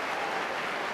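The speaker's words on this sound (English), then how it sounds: "Listen to the applause as he leaves the field." Rugby league stadium crowd at the World Club Challenge between Leeds Rhinos and Manly Warringah Sea Eagles applauds as a player leaves the field, a short burst of dense, steady clapping.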